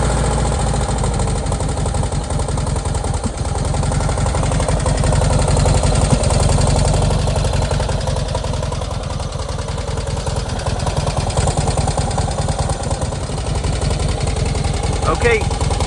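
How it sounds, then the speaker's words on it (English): Small two-cylinder engine idling steadily up close, a continuous low, knocking chug that swells slightly in the middle, with a voice talking over it at times. "this is our little 2-cylinder engine"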